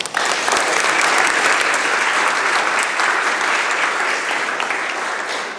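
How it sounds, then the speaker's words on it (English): Applause from members of the BC Legislature chamber: a full round of clapping that swells quickly, stays loud and dense, then eases slightly near the end. "if I could just ask everybody for a round of applause for a life well lived"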